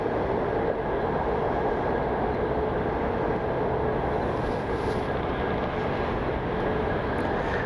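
A United airliner taxiing at Cleveland Hopkins International Airport, heard as a steady, broad, loud engine roar that holds level throughout with no voices.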